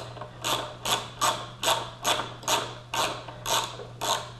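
A hand tool ratchets rhythmically at about two clicks per second, loosening 4 mm screws on a motorcycle mirror and windscreen mount, close and steady with a low hum beneath.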